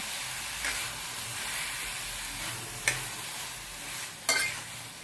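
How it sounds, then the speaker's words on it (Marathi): Tomatoes and golden-fried onion sautéing together in a pan for a spicy tomato thecha, a soft continuous hiss with three distinct scraping stirs spaced a couple of seconds apart, close and unaccompanied by speech. "त्यामध्ये आपण टोमॅटो टाकून घेऊया आणि आपण चांगलं परतून घेऊया"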